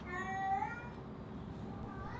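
Inky, a lazy black cat, gives a single drawn-out meow near the start, heard close up over steady outdoor background noise.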